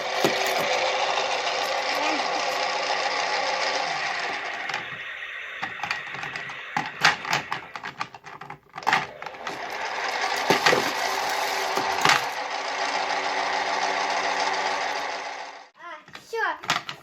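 A toy washing machine whirs steadily through its wash and spin cycle, a close, buzzing motor drone with rattling clicks that briefly cuts out and restarts before stopping near the end.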